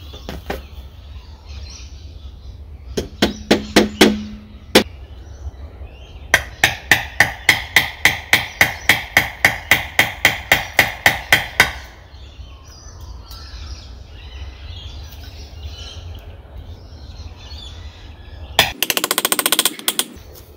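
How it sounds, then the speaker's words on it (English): Sharp, repeated hammer blows drive a nail into thick tree wood on the ground, first in a few scattered strikes and then a long steady run of rapid knocks, with faint birdsong in the background. "I might hammer this in actually just on the ground, just so I can get that nail in."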